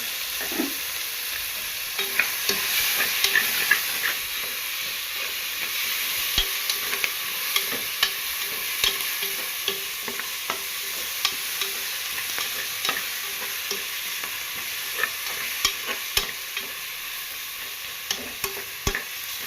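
Onions and tomatoes with rock salt sauté in a pan for chicken curry, giving a continuous soft sizzle with frequent sharp scrapes and taps of a spatula stirring, close and without talk.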